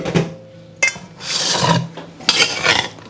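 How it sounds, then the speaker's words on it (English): Cooked pasta being tipped and scraped into a big bowl of shredded carrots, heard as loud, close rustling bursts with sharp knocks against the bowl, three separate pushes with brief pauses between. "I'm going to add my cooked pasta to the bowl."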